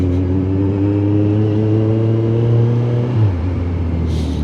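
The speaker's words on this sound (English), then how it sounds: "I've got another noisy bike behind me." A noisy motorbike in central London traffic holds a steady engine drone with clear harmonic tones, then drops in pitch as it shifts or eases off, loud and close.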